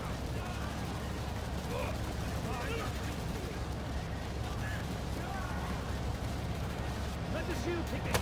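Dense, continuous gunfire and heavy explosions fill a firefight in the video game Payday 3, a loud unbroken roar of shots with shouted voices over it.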